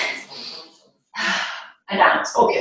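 A person draws several deep audible breaths during a Pilates exercise, breathy gasping inhalations in separate bursts with short silent pauses between them, close and fairly loud.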